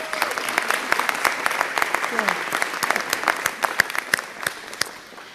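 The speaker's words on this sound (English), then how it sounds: "I think they deserve a round of applause." An audience at a federal government funding announcement gives a round of applause, with sharp individual claps over a steady crowd wash that fades out toward the end, mixed with some voices.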